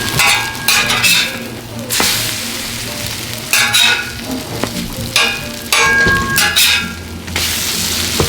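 French toast sizzles and fries steadily on a Blackstone flat-top griddle, a loud continuous crackle with occasional scraping and shifting sounds, no talking.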